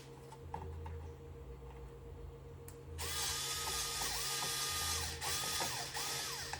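Ratcheting screwdriver clicking as screws are backed out of a printer during an XP600 print head swap, steady mechanical clicks over a background hum that grows louder partway through.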